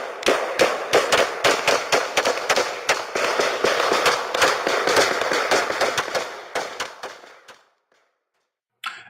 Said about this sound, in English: 5 deputies return fire at this point, and Marsh goes down in the woods.